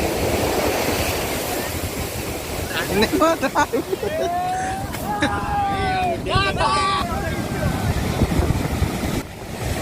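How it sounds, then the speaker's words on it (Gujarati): Rough sea surf crashes at Somnath with a loud, wind-buffeted roar. People talk and call out over the continuous wash of the waves. "જોરદાર રૌદ્ર સ્વરૂપ દરિયાનો મિત્રો,"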